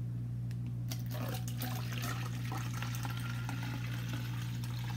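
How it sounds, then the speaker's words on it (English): Hot bath water runs from a tap into a tub in a steady, continuous rushing stream with a low hum underneath, no talking. "I'm gonna get her bath water ran first"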